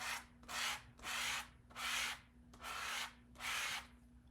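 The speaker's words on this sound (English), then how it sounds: "And then I can actually scrape that right back into my jar." Stencil paste is scraped off a cardmaking stencil back into its jar in six rhythmic close scrapes, each a rough rasp about half a second long with short pauses between, no talk.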